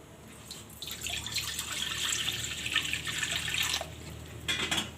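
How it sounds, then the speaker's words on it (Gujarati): Water splashes and gurgles as it is poured into a metal pan for a few seconds, then tapers off with a few drips. "આ કડાઈમાં આપણે પાણી નાખશું"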